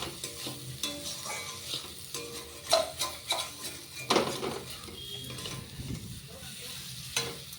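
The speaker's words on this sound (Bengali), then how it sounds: "হ্যাঁ মশলাটা ফুটে গেছে" Spice masala frying in a pan with onion crackles and sizzles while a utensil stirs and clinks against the metal in irregular bursts, close up, with no speech.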